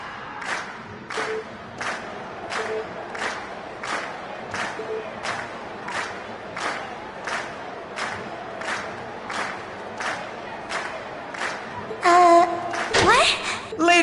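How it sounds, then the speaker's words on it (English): A video game crowd at the close of Class 7's school performance, a steady wash of cheering and rhythmic clapping in regular pulses, joined near the end by brighter tonal game sounds and a burst of noise. "we've heard your cheers loud and clear"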